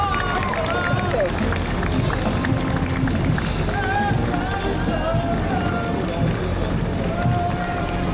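A parade crowd at a Vietnam Veterans Day event claps and cheers steadily as service members march past, a dense continuous wash of applause and voices with a few whoops above it.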